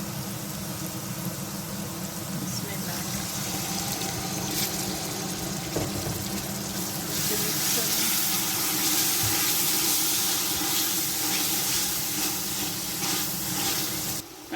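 Tomato puree goes into a hot pan of tempering and sizzles, a continuous loud hiss and crackle of frying that lasts throughout, heard close with no voices.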